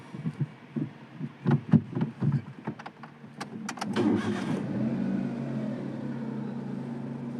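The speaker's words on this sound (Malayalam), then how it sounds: "അപ്പോൾ എഞ്ചിൻ ഒന്ന് സ്റ്റാർട്ട് ചെയ്ത് നമുക്ക് ഒന്ന് എടുത്തു നോക്കാം" A series of clicks and knocks, then a car engine cranks and catches, settling into a steady idle hum.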